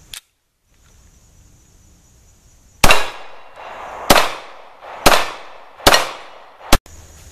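Five loud, sharp gunshots from a Ruger P95 pistol ring out at an outdoor range, irregularly spaced over several seconds, each with a short echoing tail, after a quiet lead-in.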